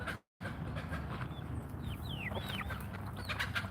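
A rooster and hens cluck continuously on a farm, a dense, steady murmur of fowl sounds with a few faint higher chirps scattered over it.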